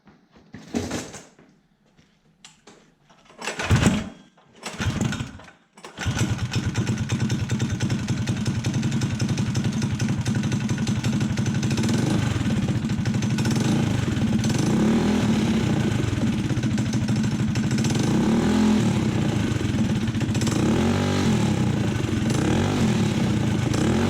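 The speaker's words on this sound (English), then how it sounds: "This might be a good opportunity to look at how a torque converter works." A mini bike's small engine runs its torque converter with no load, starting with a few clunks and knocks, then settling into a loud, steady drone for most of the clip with slight rises as it revs.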